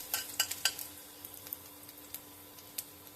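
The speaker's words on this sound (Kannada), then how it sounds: "ಸಿಡಿದ ನಂತರ ಶುಂಠಿ ಹಾಕಿ ಹುರಿಯಿರಿ." Ginger frying in hot oil after mustard seeds have spluttered, a soft close sizzle with a few sharp crackles and stirring clinks early on, fading to a quiet steady hiss.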